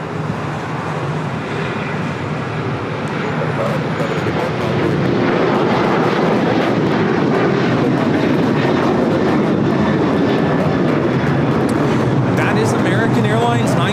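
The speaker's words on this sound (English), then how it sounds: "Airlines 1982 taking off to Raleigh-Durham on the 737-800s." A Boeing 737-800 airliner takes off at a busy airport, its jet engines roaring loud and steady throughout with a broad, rising rumble and a sense of traffic around it; a voice talks over the noise.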